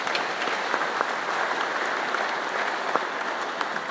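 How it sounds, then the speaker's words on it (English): An audience at a coal mining expo applauds throughout, a steady wash of many hands clapping at moderate distance with scattered louder claps. "Another fine round of applause for Representative Mike Bost."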